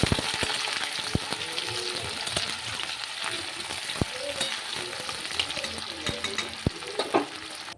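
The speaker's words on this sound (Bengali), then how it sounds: "পেঁয়াজ কুচিটা অনেকটা লাল লাল ভাজা হয়ে গেছে" Chopped onions fry in oil with cardamom, cloves and cinnamon, giving a steady, close sizzle broken by repeated clicks and scrapes of stirring.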